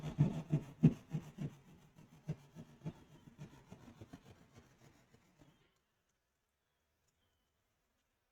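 A knife cuts and scrapes at the body of a go-kart mini 1950s truck, giving close rhythmic rasping strokes that fade and then give way to silence.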